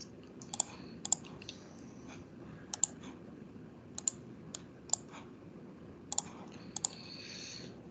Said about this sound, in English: So I'm doing it all with clicking buttons on the screen, which is a bit slower than I'd do it normally.